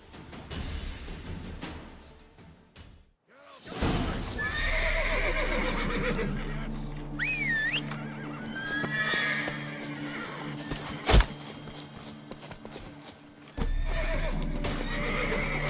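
Roach the horse in The Witcher 3 gallops with rhythmic clip-clop hoofbeats and gives loud whinnying neighs, broken by short sharp impacts and a brief gap in the sound.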